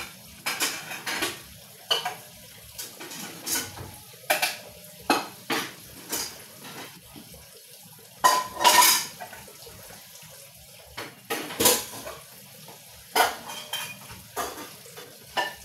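A cooking pot is readied for boiling herbs, with repeated metallic clanks and knocks of cookware and a brief splash of water, close by and with no talking.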